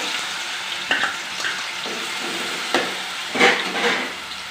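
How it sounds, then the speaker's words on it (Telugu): Onion paste goes into a pan of oil for a village-style chicken liver fry, with a steady frying hiss and a few louder bursts where the paste hits the hot pan. "ఆ ఉల్లిపాయ పేస్ట్ అయితే వేసేసుకుంటున్నానండి"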